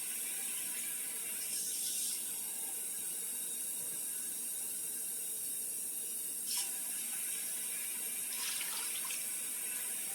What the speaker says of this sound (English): I'm going to start adding water to right about this level here.